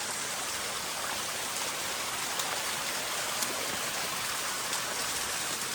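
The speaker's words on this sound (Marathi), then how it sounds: "पाऊस पण आला आहे." Rain falling outdoors on a hillside above a village in Maharashtra: a steady, close, even hiss of downpour throughout, with no voices.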